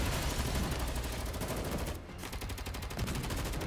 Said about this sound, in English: Bullets perforate the reclamation expert's armor, which protects its core control module